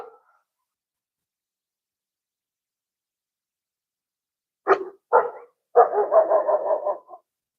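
Dog barking outdoors during a late-winter hunt, two short separate barks followed by a longer run of rapid barking, moderately close, set against near silence.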